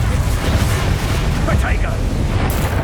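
A Bombarda spell explodes during combat in the video game Hogwarts Legacy, a loud booming burst with rumbling low-end noise, with speech and other spell effects mixed in.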